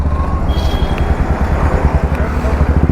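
A Royal Enfield Meteor 350 with an RRP aftermarket exhaust runs close by, a loud, throbbing, uneven engine note with a steady low pulse.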